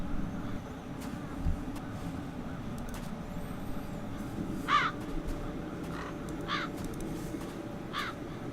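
Crows caw in The Dark Eye: Chains of Satinav, three or four short harsh calls spaced across the stretch over a steady low ambient rumble, fairly near and moderately loud.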